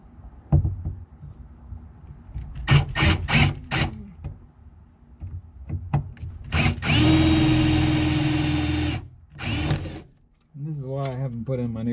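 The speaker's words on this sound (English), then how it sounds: "I'm still drilling holes in this poor truck." A hand drill with a 1/8 inch bit boring holes in the sheet metal of a Datsun 521 truck: short bursts of whine, then a long sustained drilling run, brief knocks, and a voice near the end.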